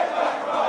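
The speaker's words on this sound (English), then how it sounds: "Well, there's a little bit of a chant." A football crowd at an intercollegiate school match between Blackfriars and CBC chants in unison, a brief, dense burst of many voices heard from a distance.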